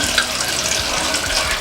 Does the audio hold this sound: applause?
no